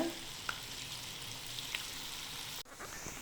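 Bitter gourd pieces frying in very hot oil, giving a steady broadband sizzle with a couple of faint clicks and a sudden brief dip near the end, no talking.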